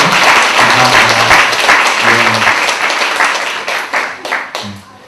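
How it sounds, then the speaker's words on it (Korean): A church congregation claps to welcome a family during a Sunday worship service, close and loud at first, then thinning into scattered claps as someone briefly speaks. "박수로 환영해 주시고요."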